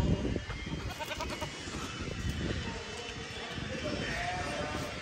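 Fat-tailed sheep bleat at a crowded livestock market in Bishkek, Kyrgyzstan, a few repeated calls rising over steady crowd noise and nearby voices talking throughout.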